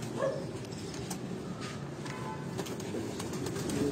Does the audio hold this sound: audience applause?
no